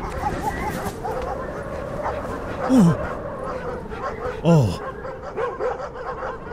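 Dogs bark and whimper in a post-apocalyptic video game, with a few short yelps and whines heard at moderate distance over a steady ambient bed, while a voice briefly reacts.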